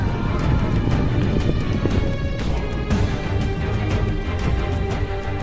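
Heavy hooves of a thousand charging cavalry horses gallop in a dense, continuous rumble, with scattered clattering impacts throughout.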